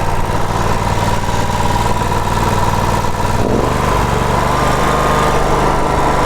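Engine of a Ferris IS3000 zero-turn mower runs loud and close, a steady droning roar that shifts in pitch partway through as the revs rise.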